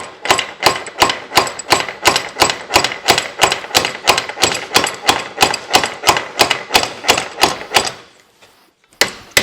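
About twenty sharp, evenly spaced hammer blows ring out on a stuck part of a 1985 Talbot in a steady, loud rhythm, then stop, followed by a near-silent pause and one last faint knock.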